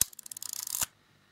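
The film advance lever on the bottom of a Kodak Retina IIIc 35mm rangefinder is wound fully, giving a close, rapid ratcheting series of clicks that ends in a sharp snap, followed by quiet.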